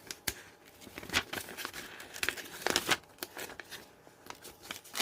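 Infusible ink transfer paper peeled away by hand in a crafting project, giving soft crinkling and tearing crackles in short bursts, close and fairly quiet.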